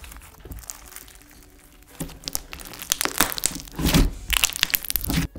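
Crunchy slime overfilled with added ingredients is squished by hand, giving dense crackling, crinkling crunches that start softly and grow louder and more rapid, close up with no talking.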